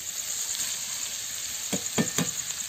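Drained bitter gourd pieces tipped into hot oil, a steady bright sizzle with a few sharp crackling bursts as they land, close by.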